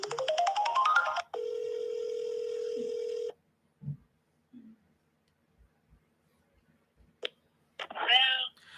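A phone call rings over speakerphone on a live call-in show: a rising electronic tone gives way to a steady ringing tone for about two seconds, then near silence with faint clicks and a short voice at the end.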